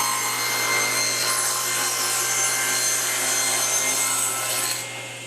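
Table saw blade cutting through wood for a half lap joint, a loud continuous whining hum with gritty cutting noise held steady for several seconds before easing off near the end.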